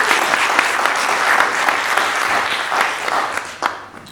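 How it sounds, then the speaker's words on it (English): A film festival audience in a cinema gives a loud, dense round of applause after a screening, many hands clapping steadily for several seconds before thinning slightly near the end. "We have a round of applause for the film you've just seen"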